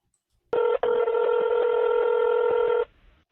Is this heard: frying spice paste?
no